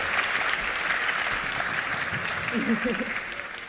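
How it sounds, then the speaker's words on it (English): Audience applause at the European Inventor Award 2023 ceremony, steady clapping from a crowd across the whole span with a few voices murmuring underneath near the end. "Thank you for your clapping and your support."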